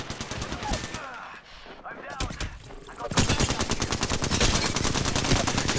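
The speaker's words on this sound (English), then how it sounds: "We've now got another team shooting in at us." Rapid bursts of automatic gunfire in the battle royale game Apex Legends, sporadic shots giving way to sustained, loud rattling fire from an enemy team in the second half, with game effects layered throughout.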